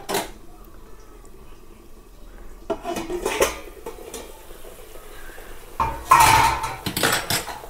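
A lid comes off a pan of cauliflower masala with loud metallic clanks and clatter, near and abrupt, followed by soft cooking sizzle between the knocks, with no speech.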